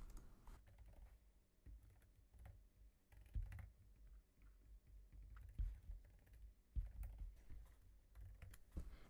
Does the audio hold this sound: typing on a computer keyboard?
yes